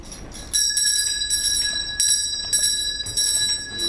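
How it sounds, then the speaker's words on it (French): A small hand bell rung to summon servants in a French stage comedy jingles in quick repeated bursts, bright and close, with short pauses between shakes. "et ma sonnette ne fait pas assez de bruit"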